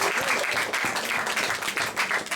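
A church congregation applauding during a service, a steady wash of dense clapping that holds at an even level for a couple of seconds with faint voices mixed in.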